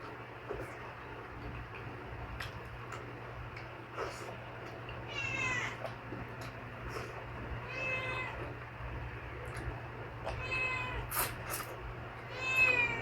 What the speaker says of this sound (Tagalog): yung pusa. Nagalit.